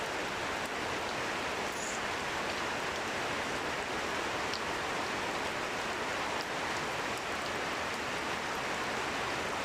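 Relentless nighttime downpour over rural Paruliya union, Gopalganj, a thick steady wash of rain noise with scattered faint drips, constant in level and free of speech.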